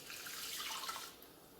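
Water poured into a dish of rice for oven baking, a steady close splashing stream that runs alone for about a second and then tapers toward a quieter trickle.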